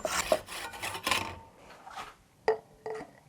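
Hand saw cutting through a carbon mountain bike handlebar, a DoD Skywire enduro bar: rasping strokes through the first second and a half, then two short sharp scrapes, close and fairly quiet.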